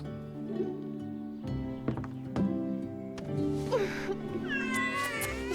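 Kittens meowing in a cartoon fairy tale: several high, wavering mews come in quick succession over a soft music bed, growing busier and overlapping near the end.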